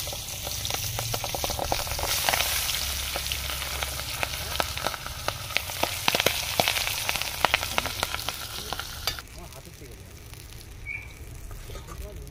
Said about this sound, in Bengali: আর তার মধ্যে মাছ আমাদের একবারে ভাজা হয়ে গিয়েছে, আর এক ভাজে দেওয়া হচ্ছে।